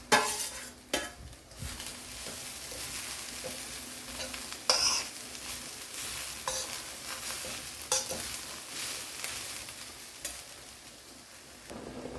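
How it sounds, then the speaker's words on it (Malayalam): Moringa leaves being stir-fried in a pan give a steady soft sizzle, broken by repeated scraping and clinking of a utensil against the metal as they are tossed, close up and without speech. "ഇതെല്ലാം കൂടെ ഒന്ന് വഴണ്ട് കഴിഞ്ഞ് നമുക്ക് മുരിങ്ങയില ഇട്ട് കൊടുക്കാം"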